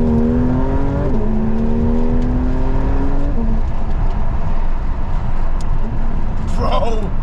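Porsche 992 GT3 RS engine pulling hard from inside the car, a loud rising drone that drops with a shift around the middle, under road noise and some talk.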